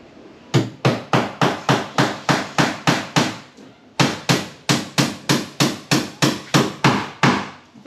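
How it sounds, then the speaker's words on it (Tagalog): Steady, loud hammer blows strike an office table under repair in an even rhythm, about two per second, with a brief pause midway before the pounding resumes. "Gamit ng martilyo."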